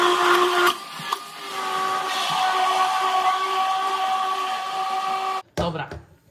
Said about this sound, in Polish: Teraz dokonamy szybkiego blendowania.